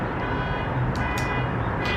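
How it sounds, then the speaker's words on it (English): A car alarm blares on a street in Las Vegas as a steady, loud tonal wail that runs without a break, with traffic noise beneath it. "I'm still attempting to talk in the middle of this car alarm going off."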